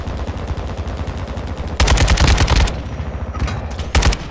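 Rapid bursts of automatic gunfire in a multiplayer shooter video game, loud and close, with dense volleys separated by brief pauses and a final short burst.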